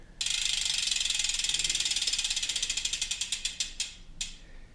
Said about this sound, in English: So these hubs, they do sound very, very good. 60 points of engagement.